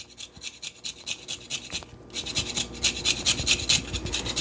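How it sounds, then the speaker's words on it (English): A key lime rubbed against a tiny handheld zester in a kitchen, a rapid rhythmic rasping close to the microphone that speeds up and grows louder in the second half. "I'm going to zest my decorative lime with my tiny little cute zester"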